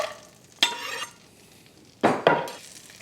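Peppers frying in butter in a skillet over low heat, with two bursts of stirring scrapes and a soft sizzle between them, close and quiet with no talking.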